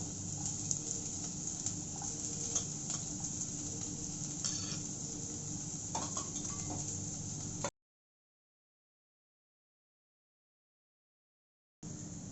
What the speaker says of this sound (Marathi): यात मी कांदा टाकत आहे.